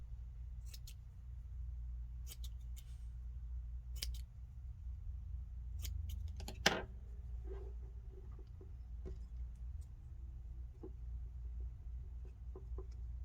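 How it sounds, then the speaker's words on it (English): Scissors snip fabric for covered buttons, several short crisp cuts spaced irregularly against a quiet low hum, with one louder clack midway. "If there's excess fabric, you can cut the fabric and make it the right size."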